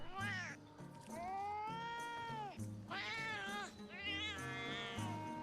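A talking cat in Metal Gear Solid: Peace Walker gives a string of clear, close meows, several drawn-out and wavering calls one after another over a faint game soundtrack.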